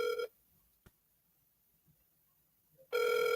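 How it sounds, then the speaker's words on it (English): A telephone rings in two loud electronic bursts, one at the start and one at the end, with near silence and a faint tap between them. "Ringing ding dong. Answer that phone."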